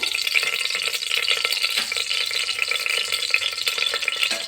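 Whole cumin seeds crackle and sizzle in hot white oil for tempering, a dense, steady hiss peppered with rapid tiny pops heard close up and without talk.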